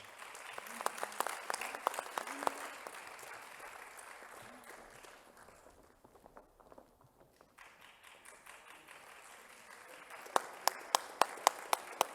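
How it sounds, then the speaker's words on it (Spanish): Audience applauding a ballet company at a verse concert in Ontinyent, a steady wash of clapping with a few sharp, close individual claps standing out near the start and again at the end. "Un fuerte aplauso."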